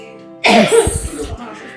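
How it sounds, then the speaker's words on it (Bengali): A person with a cold coughs in a short, harsh burst of several rough coughs close to the mic, followed by a brief throaty rasp. "শুরু হয়ে গেছে আমার কাশি"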